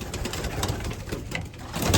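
Racing pigeons coo softly in a loft, low repeated throaty calls under continuous background rustle and noise.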